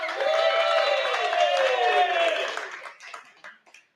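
A live in-person audience at a freelancing talk show applauding, a dense wash of clapping and cheering that holds strong, then thins into scattered claps and fades out.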